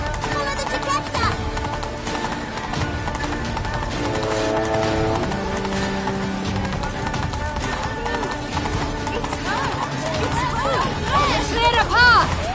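Horse Roach galloping in a video game, steady clip-clop of hooves under music, shouting voices and background game noise, with a horse whinny near the end.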